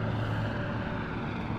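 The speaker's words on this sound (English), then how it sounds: "There's the helicopter that took me off." Helicopter in a Hitman video game cutscene, a steady low rotor and engine drone held continuously at moderate level with no talk over it.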